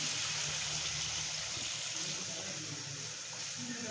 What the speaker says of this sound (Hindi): इसकी ग्रेवी बनाने के लिए इसके अंदर पानी लगाऊंगी तकरीबन 3 कप के करीब